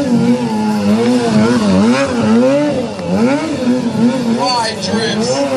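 Motorcycle engine revving and wavering in pitch as it drifts during a stunt show, loud and continuous with rising and falling tones, heard alongside voices.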